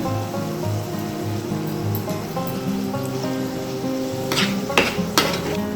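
Mango curry with gangavayili leaves being stirred in a pan after chili powder goes in, a soft sizzle with scraping spoon strokes and a few sharp clinks of utensil against the pot near the end.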